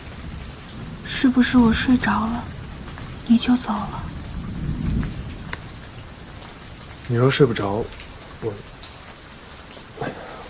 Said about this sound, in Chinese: 外面雷声已经小了许多